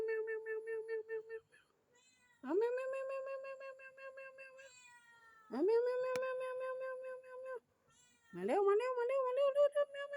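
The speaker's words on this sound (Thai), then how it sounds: "ผุนมาแมวแมวแมวแมว" A stray cat meows repeatedly, three long drawn-out close cries spaced a couple of seconds apart, with a person's voice heard in between.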